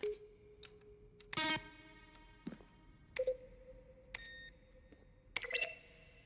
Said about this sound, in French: Chaque son est un mélange de frappe de clavier et de tonalité de synthétiseur.